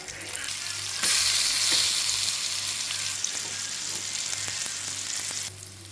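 Sardines frying in a pan give a loud, steady, close sizzle that swells abruptly after about a second and drops back just before the end, with faint crackles throughout and no voices.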